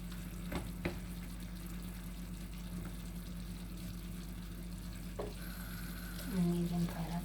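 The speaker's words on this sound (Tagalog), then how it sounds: "I deep fry the chicken" Chicken deep frying in hot oil makes a steady low bubbling hiss with a constant hum, a few sharp clinks and a louder sizzling surge near the end.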